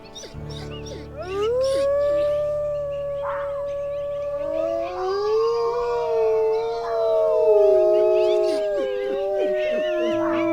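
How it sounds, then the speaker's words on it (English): Several wolves in the video game WolfQuest: Rising Hope howl together, long rising and falling voices overlapping in a drawn-out chorus over a soft musical drone, loud and close. "Amanita howled her final farewell to her first dispersal"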